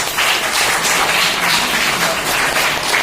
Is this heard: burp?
no